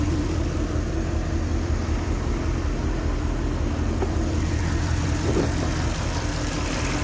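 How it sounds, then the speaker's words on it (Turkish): A Porsche engine, fitted with a high-pressure fuel pump that has a fault, idles unevenly with a steady low rumble. It runs on its own for the whole stretch, with no talk over it. "Bakın şu anda araç çalışıyor."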